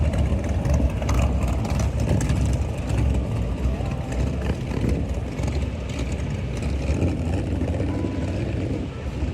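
Motorcycles ridden by combat veterans roll past in a Veterans Day parade in downtown Fort Worth, a steady, loud engine rumble with no break.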